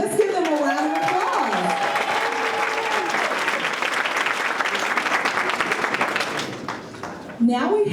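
A round of applause rises for a group at the TAPP completion celebration, sustained crowd clapping beneath a voice speaking over it at the start, then tailing off near the end.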